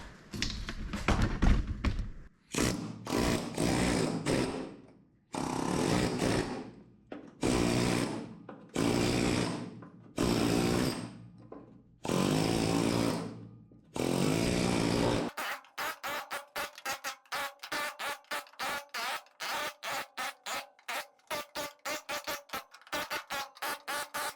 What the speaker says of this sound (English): I'm gonna try to use the air hammer to get it all lifted.